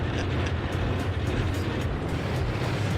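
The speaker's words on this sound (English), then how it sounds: "All I hear is lots of engines." Steady, dense drone of aircraft engines in a Wing42 Boeing 247 in a flight simulator game, a continuous loud rumble with no pauses or talk.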